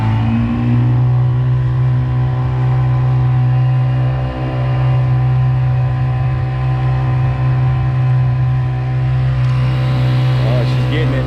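A KB outboard motor on a boat runs at three-quarter throttle alongside a battery-powered Watersnake trolling motor, producing a loud, close, steady harmonic engine hum that holds constant throughout.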